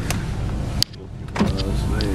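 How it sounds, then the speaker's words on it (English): Electric windows on an Audi TT being operated: a steady whirring motor hum that stops with a soft thump, then another motor run starts up, heard close and clear with no talk. "Got electric windows as well, they both work fine."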